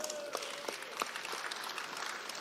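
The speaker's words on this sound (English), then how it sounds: "A round of applause, please." Faint applause from an audience at a national forum of former legislators, a soft continuous patter of clapping heard from a distance throughout.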